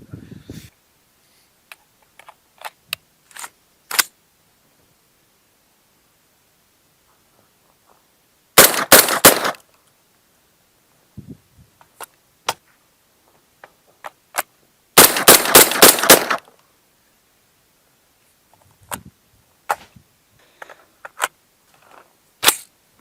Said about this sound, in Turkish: Şimdi 36 kalibre T14'ümüz atış yapacağız.